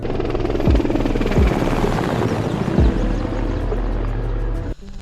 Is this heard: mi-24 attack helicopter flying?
yes